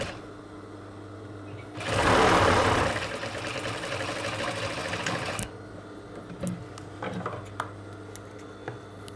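A sewing machine runs in a loud, steady burst while stitching a half-inch joining seam on a corset with skin illusion net, then stops and gives way to quieter handling noises and small clicks.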